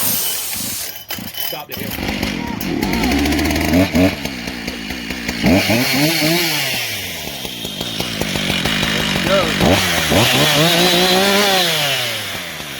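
A Husqvarna 575XP chainsaw is started and revved, its loud engine rising and falling through several throttle bursts at close range, with someone speaking briefly over it.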